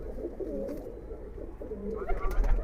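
Pigeon of an old Giribaz breed cooing at low pitch while being handled and shown close up, soft rumbling coos running steadily with some handling noise and no speech.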